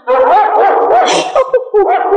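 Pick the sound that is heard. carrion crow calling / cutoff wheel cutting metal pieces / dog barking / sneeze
dog barking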